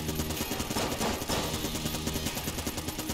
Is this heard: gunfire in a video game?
yes